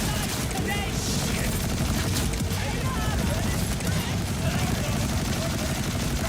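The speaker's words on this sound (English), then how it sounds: "I was wondering why there were so many explosions, and that's why. They're shooting rockets now." Shoulder cannons fire rockets in the video game Borderlands 4, a dense, loud barrage of blasts and explosions rolling on without a break while gameplay noise keeps up underneath.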